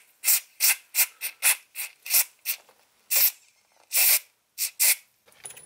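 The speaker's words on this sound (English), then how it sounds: "This is gonna go ahead and lube it back up, and we're gonna spray those bearings out really good." Short hissing bursts from a spray can of lubricant sprayed into motor bearings, about a dozen quick squirts in an uneven rhythm with brief pauses, close by.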